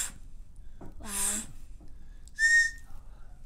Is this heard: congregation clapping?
no